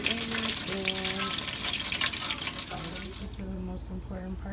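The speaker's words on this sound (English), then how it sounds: "the golden brown fried chicken that I put in" Golden brown chicken frying in hot oil in a home kitchen crackles and sizzles in a steady close hiss, with a person talking over it.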